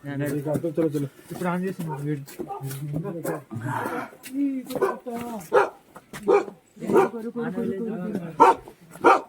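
Dogs bark and snarl repeatedly at close range while fighting in Mana village near Badrinath, their scuffling barks overlapping with people talking nearby.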